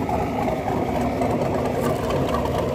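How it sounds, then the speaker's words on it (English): An engine with a Brian Tooley stage 4 naturally aspirated cam idles at 800 RPM, a steady, close rumble with an even mechanical chatter and no revving. "That's only 800 RPMs. Brian Tooley's stage 4 NA cam."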